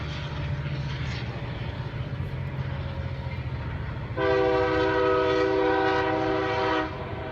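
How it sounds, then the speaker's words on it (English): Close by a train station at night, a passing freight train rumbles steadily, then a loud multi-tone horn sounds for nearly three seconds before the heavy rolling noise carries on. "I'm right here by the train station. That's why you hear that train."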